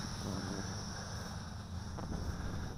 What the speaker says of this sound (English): fighting this wind